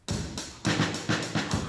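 Drums struck in a slow, even beat, four or five full resonant hits spaced about half a second apart, close and fairly loud with no voices.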